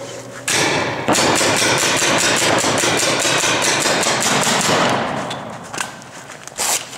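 RAP4 paintball marker fitted with a Wolf TACAMO conversion kit firing rapid, loud sharp shots in a fast continuous string for about four seconds, followed by a few scattered shots and clicks.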